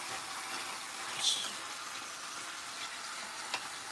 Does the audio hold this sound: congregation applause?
no